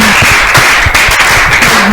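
A live audience applauds loudly and steadily, a dense wash of many hands clapping close by for the whole stretch, with a sustained tone running underneath.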